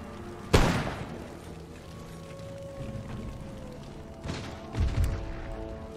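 Foot artillery fires volleys during a siege battle in Empire: Total War: a sharp, loud cannon boom opens, then a couple of further booms arrive later, more muffled and distant, over a low battlefield rumble.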